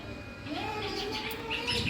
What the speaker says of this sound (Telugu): నైవేద్యం తినే పిట్టల వాయిస్ అది ఉరపిచ్చుకలు మూడు ఉన్నాయి